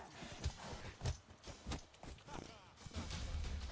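Horse hooves clip-clopping in The Witcher 3, with steady, fairly loud thuds that mix with a person's voice and game background noise.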